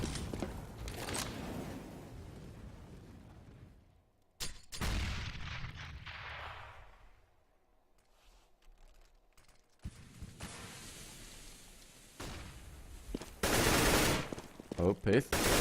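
Counter-Strike gunfire on de_nuke during a competitive match comes in bursts of rapid automatic shots and single cracks, some loud and close, others duller through walls, separated by quieter stretches of footsteps and game ambience.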